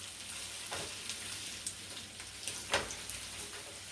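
Meat frying in a greasy pan on a stovetop burner, a soft continuous sizzle with a few sharper pops and crackles, quiet and close, without speech.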